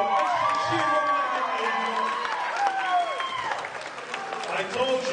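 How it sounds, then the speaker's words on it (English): Wedding guests applaud and cheer at a Tongan wedding celebration, with a dense wash of clapping mixed with crowd voices, shouts and music-like tones running steadily throughout. "Please give them another round of applause."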